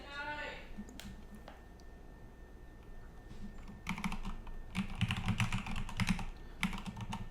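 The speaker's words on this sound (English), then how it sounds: "So then we're going to be typing in" Quiet keyboard typing, scattered key taps at first, then a quicker burst of clicking toward the end, close by with faint room noise.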